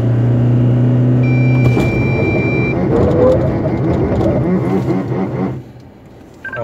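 An SUV fitted with Michelin LTX Force all-terrain tyres accelerates at full throttle on a test track, with a loud, close engine roar and rising drone inside the cabin that eases off near the end.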